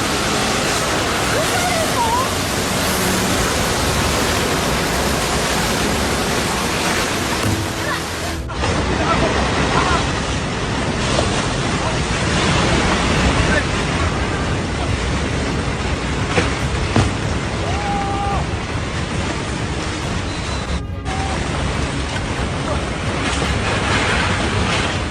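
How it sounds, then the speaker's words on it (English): A thick mudflow of soil, rocks and water tearing down a mountainside after days of heavy rain: a loud, unbroken rushing roar like a torrent, steady the whole way. "The thick mud flow, a mixture of soil, rocks, and water, roared."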